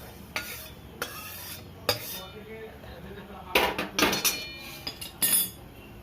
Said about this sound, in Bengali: আমি এরপর চালের সঙ্গে কলাইটা ঢেলে দিচ্ছি।